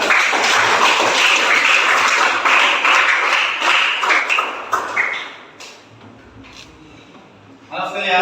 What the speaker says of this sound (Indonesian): tepuk tangan atas tayangan videonya